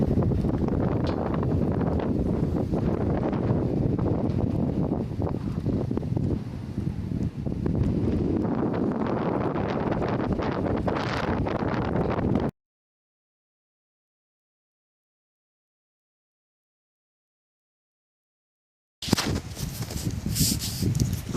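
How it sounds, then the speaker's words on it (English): Strong wind buffets the microphone at a Kansas roadside in a dense continuous roar, cut off by several seconds of silence before the gusting resumes. "let's see if this wind isn't too bad"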